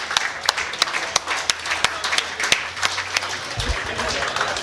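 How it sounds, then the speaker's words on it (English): A crowd of Scottish supporters at the final of a GB9 Ball Tour 9-ball pool event claps and celebrates the champion's victory with sustained, close, sharp applause. "it's the Scots that you can hear celebrating Fraser Patrick's victory"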